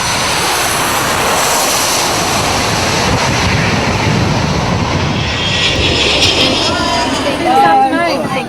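Airliner engine in flight approaching Wellington, a loud, steady cabin roar of engine and airflow filling the whole stretch, with a voice speaking over it.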